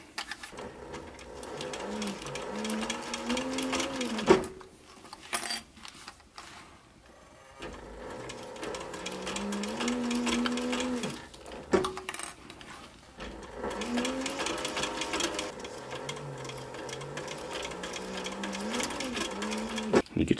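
A sewing machine stitches leather for a sun visor, running in several bursts with short pauses between them as it backs over the stitch line, with a voice speaking in between runs.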